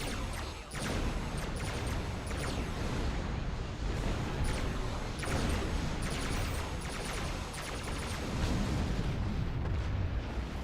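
Beam weapons firing at will during space combat in a video game, a dense continuous roar of booming blasts and crackling bursts, loud and close throughout.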